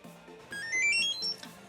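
A ZUS car key finder rings with a short electronic melody of rising and falling beeps, fairly quiet over a faint background.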